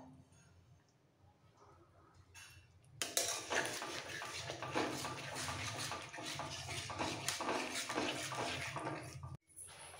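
A spoon stirs and scrapes through paneer gravy with curd and fresh cream in a pan for a capsicum paneer dish. After a quiet start, busy clinking and scraping strokes follow, close and continuous.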